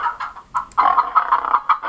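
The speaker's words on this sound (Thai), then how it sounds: "ไก่ก็ร้องเสียงดังขึ้นนะครับเรียกให้ช่วยหาใครมาช่วยด้วยนะครับ" Chicken clucking sound effect from a PowerPoint animal story, a quick series of close, loud clucks in an uneven rhythm with no talk.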